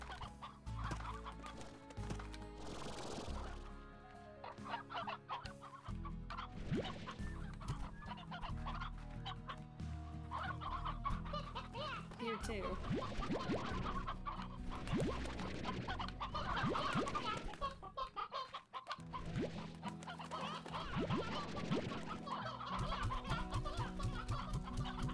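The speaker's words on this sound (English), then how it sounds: "Might have to put some of these chickens out so that I can have more chickens being made in." Chickens cluck repeatedly in the Slime Rancher video game, a steady run of close, fairly loud game-animal clucks over an ongoing music bed, with no talking.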